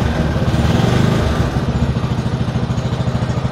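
A motorcycle engine catches and settles into a fast, even chugging idle, loud and close.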